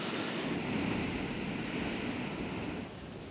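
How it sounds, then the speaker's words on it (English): Giant winter sea waves crash beyond the harbour walls at Dunbar, a loud, continuous roar of surf mixed with wind rushing across the microphone, easing slightly near the end. "Just look at those waves beyond the walls."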